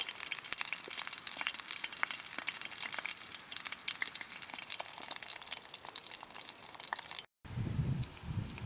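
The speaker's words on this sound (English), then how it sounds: "5 sausages I got on there, it's as many as I can get in the Swedish Army stove." Five sausages fry outdoors on a Swedish Army stove, giving a continuous crackling sizzle with frequent sharp pops of spitting fat, close and fairly quiet, broken near the end by a short gap and a lower rumble.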